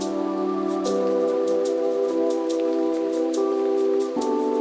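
A sampled rain sound hisses softly and continuously in a chill lofi beat, layered under sustained piano chords and a pad that change a few times.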